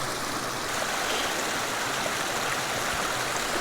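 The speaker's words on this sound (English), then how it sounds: "Here's a pretty neat little waterfall." A small mountain waterfall on an alpine stream pours in a steady, loud, full rush of water with no pauses.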